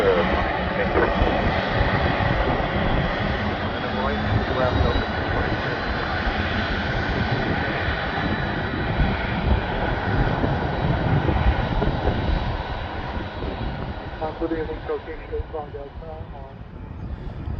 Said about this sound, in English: The Delta flight continues to taxi the active runway.